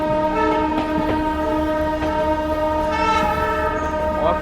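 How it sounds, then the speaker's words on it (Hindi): The Mumbai Howrah Duronto Express passes close by with its horn blaring in a long, steady, loud tone over the rumble and rattle of the wagons on the track. "मुंबई हावड़ा दुरंतो एक्सप्रेस"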